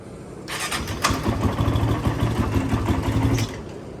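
A Yamaha YFZ or Honda TRX 450 ATV engine cranks and briefly catches, giving about three seconds of loud, close, uneven starter and engine noise before cutting off.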